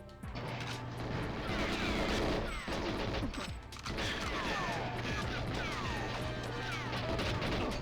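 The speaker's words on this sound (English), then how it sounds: "Loud explosions." Gunfire, crashes and explosions from the video game GoldenEye 007, playing on the Analogue 3D edition: a loud, dense stream of shots and blasts across the whole stretch, with a brief lull near the middle.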